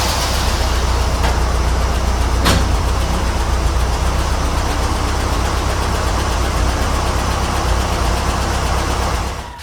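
An old Jeep engine idles steadily and loudly close by after a belt repair, a continuous even rumble with a brief click early on and no belt squeal.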